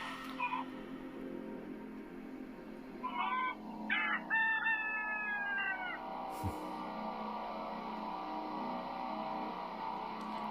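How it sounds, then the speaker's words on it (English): A rooster crows once at a middle distance, a short rising-and-falling call standing out over a steady background hum, with a faint thump afterward. "We need to just get a chicken, a rooster"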